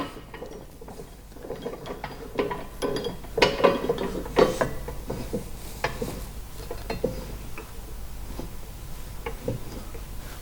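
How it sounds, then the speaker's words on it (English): Clamp bar being screwed down on a plastic jerrycan mixer, irregular metallic clicks, ratcheting and small clanks from the threaded clamps, close by with a low hum underneath and no speech. "and we screw it down."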